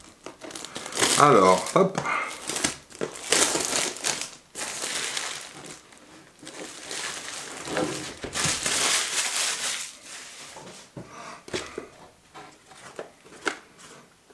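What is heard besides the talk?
opening a parcel with a box cutter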